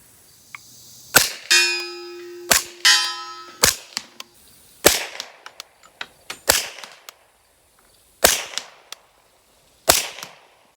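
A series of sharp, loud suppressed .45 pistol gunshots through a short Dead Air Mojave 45 suppressor, with a metallic clang, spaced irregularly, each with a quick decay and no talking.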